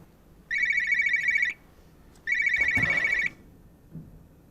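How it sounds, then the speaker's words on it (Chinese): A phone ringtone trills in two loud electronic bursts, each about a second long, separated by a short pause with a faint knock, and then it stops. "啊，对不起，我接个电话。"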